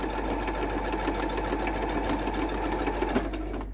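A sewing machine stitches a bandana seam in one continuous, close, steady run, its rapid needle chatter holding even throughout before stopping just at the end.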